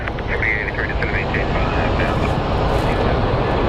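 American Airlines Boeing 737 MAX 8 at Phoenix Sky Harbor International Airport, a steady loud broadband engine roar holding through the clip with faint talk underneath.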